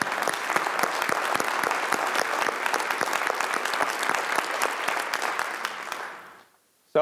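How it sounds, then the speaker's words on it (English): Audience applause at a school district State of the Schools event, a dense, sustained round of clapping that fades out near the end. "So you always end with an applause"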